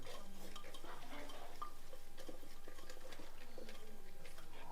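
Coconut oil, a green chilli, garlic cloves and shallots are mixed together by hand for a mussels fry, giving faint, soft scraping and stirring sounds close by in a quiet room.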